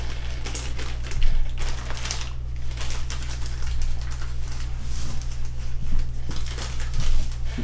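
Plastic and cardboard board game pieces from the Last Night on Earth 10th anniversary edition rattle and tap as they are packed back into their box, a steady close patter of small clicks over a low hum.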